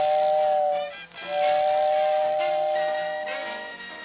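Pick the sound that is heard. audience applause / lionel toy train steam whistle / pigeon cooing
lionel toy train steam whistle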